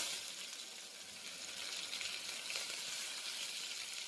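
Onion and tomato frying in oil for pav bhaji, a faint, continuous hiss of sizzling with slight swells, quiet and with no voices.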